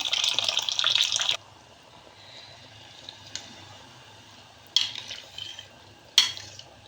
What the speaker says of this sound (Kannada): ಬಿಸಿನೀರು ಹಾಕ್ಕೊಳ್ತಾ ಇದ್ದೀನಿ.